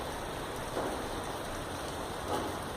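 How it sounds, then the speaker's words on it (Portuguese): Rain falls outside a window as a steady, soft, even hiss, fairly faint and continuous, with a couple of slightly louder swells and no voices. "me desculpa pelo barulho porque tá chovendo"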